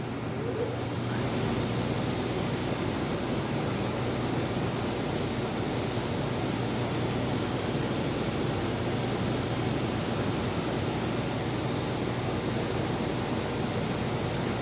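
A metal polishing cabinet with its dust collector and motor running, giving a steady, loud, continuous mechanical drone and hum that holds an even level from start to finish with no voices.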